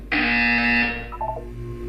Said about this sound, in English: When you hear the buzzer, look up at the ceiling.